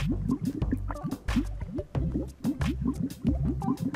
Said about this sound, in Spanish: déjenme mostrarles qué pasaría si agito estas dos sustancias, como por ejemplo podrían agitarlas las olas del mar.